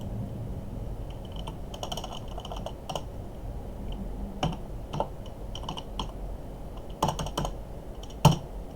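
Scattered keystrokes clack on a computer keyboard, irregular and fairly close, with short bursts and pauses between, no talking over them.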